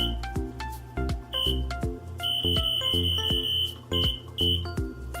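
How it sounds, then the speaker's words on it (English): A Crock-Pot slow cooker beeps while it is being set, giving a run of sharp, loud electronic tones at a steady rhythm, some short and some held, with nobody talking. "This is really obnoxious sounding, but it's a really good Crock-Pot."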